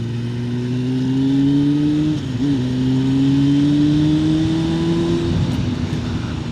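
A motorbike engine drones steadily while riding on wet roads, its tone climbing gradually under constant throttle, with a brief dip at a gear change and road and wind noise all around.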